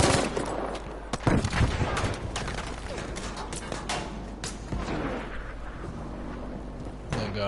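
Dense gunfire in the video game Battlefield 5, with rapid automatic bursts, booming explosions and battlefield rumble layered loudly and continuously throughout.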